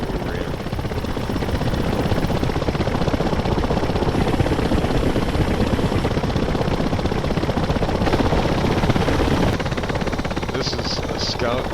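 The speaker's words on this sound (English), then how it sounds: "This is a scout doing a flyby." A scout helicopter flies by in the DCS combat flight game with a constant, dense rotor and engine drone that fills the whole stretch. The level stays steady throughout, with faint higher chirps near the end.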